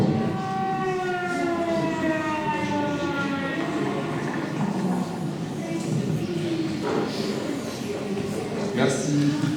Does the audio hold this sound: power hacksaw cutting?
no